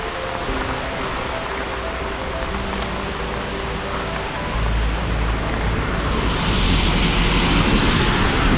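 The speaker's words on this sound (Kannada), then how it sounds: "ಮಳೆ ಹೆವಿ ಮಳೆ." Heavy rain on the road toward Bisle Ghat in Karnataka makes a dense, continuous roar that grows louder partway through, with no voices over it.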